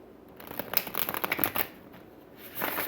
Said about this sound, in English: No, that was the best shuffle ever.